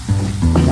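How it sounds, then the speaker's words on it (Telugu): Prawns frying in a pan with onions, a loud close sizzle that stays steady for a brief moment. "ఫ్రైలో వేపిన రొయ్యల్ని మళ్ళీ వేయించుకోవాలి."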